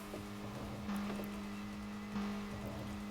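Steady car engine drone from the Tokyo Xtreme Racer 2025 racing game, a sustained low hum that swells briefly twice, with no talking.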